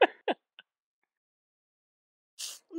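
A single person clears the throat and gives short coughs, a few quick bursts close to the microphone separated by silence, with one more rough burst near the end.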